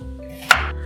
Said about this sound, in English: We first need to prepare some tofu and cut it.